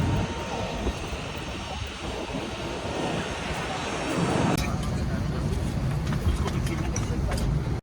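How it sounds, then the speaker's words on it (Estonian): Airplane engines roar steadily on a passenger aircraft about to fly to London, heard from inside the cabin as a loud, continuous drone that swells partway through, with people talking nearby. "Ja see ongi meie lennuk."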